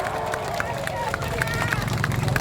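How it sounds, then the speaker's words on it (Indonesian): Rally crowd of field workers clapping in a steady unison rhythm, evenly spaced bursts of many hands beating together with a murmur of voices underneath. "Sekali lagi, aplaus buat kita semua yang sedang berjuang."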